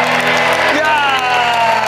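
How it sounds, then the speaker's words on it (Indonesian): Studio audience applause and cheering for the Sweet Princess team on an Indonesian TV survey game show, a dense steady roar of clapping with whoops, loud and continuous throughout. "Tapi tepuk tangan juga ada untuk Sweet Princess."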